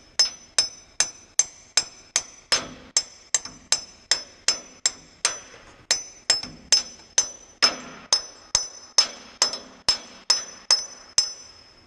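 Steady series of sharp metallic hammer strikes pounding a heavy part into a hole on a dyno, about two per second, each ringing briefly before the next blow lands, close up with no talking.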